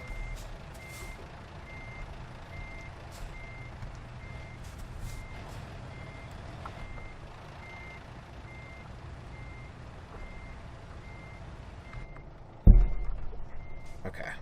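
A truck in American Truck Simulator backs up, its reversing alarm beeping in a regular slow pulse over a low engine drone, followed near the end by a sharp hiss from the air brake.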